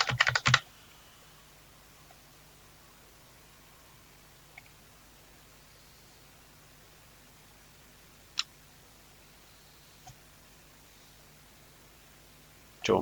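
Password keys tapped on a computer keyboard during a web login, heard as a few sparse, isolated clicks separated by long quiet gaps over a faint steady hum.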